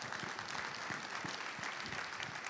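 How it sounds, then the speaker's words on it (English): An audience at a fintech festival session applauds, a dense, even wash of many hands clapping together that holds steady throughout. "Please give a round of applause to Cecilia and Soraya."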